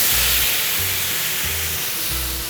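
Bacon sizzling as it fries in a pan for spaghetti carbonara, a steady, loud crackling hiss with a low rhythmic hum pulsing underneath throughout.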